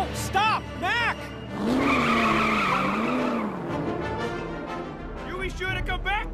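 Truck tires squeal and skid in long wavering screeches as it does donuts nearby on pavement, with excited voices shouting over it.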